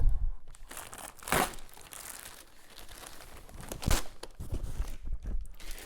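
Taped packaging around an iRobot Roomba 870 robot vacuum being pulled apart, close crinkling and crackling of plastic and tape in irregular bursts, with two sharp tearing rips standing out; no speech.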